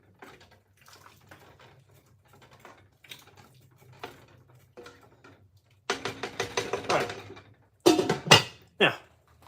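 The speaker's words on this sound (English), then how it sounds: "Stir it up." Food being stirred in a cooking pot, seasoned with garlic multi-purpose seasoning: quiet scraping and clinking taps at first, then louder bursts of utensil-on-pot scraping toward the end, with no talking.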